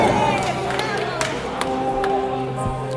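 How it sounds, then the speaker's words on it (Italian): A crowd at a cage fighting event in Bergamo applauds the winning fighter, loud clapping and scattered cheers filling the space while an announcer's amplified voice talks over it. "un applauso al vincitore Michele Mazzola"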